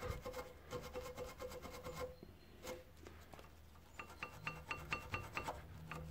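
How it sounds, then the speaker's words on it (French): Brake pad slides on a Peugeot 206 caliper are scrubbed clean in quiet, rhythmic rubbing and scraping strokes, with faint metallic clinks from the tool against the caliper and no talking. "vous nettoyez bien vos petites coulisses"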